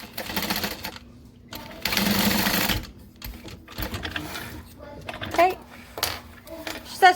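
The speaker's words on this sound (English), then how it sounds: "I want to get all the way back to the spot where I started stitching." A sewing machine stitching a seam runs in short bursts of whirring motor, with quieter pauses between runs, close by and mixed with a person talking.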